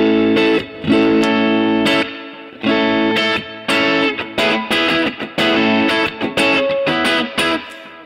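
An electric guitar plays distorted chords through reverb and delay effects in rhythmic bursts, loud and close, with brief gaps between strums.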